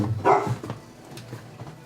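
A dog gives one close, sharp bark followed by a softer yip and faint whimpering, alone with no talk.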